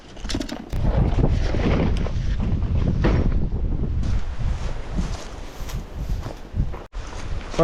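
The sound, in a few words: wind blowing outdoors at a creek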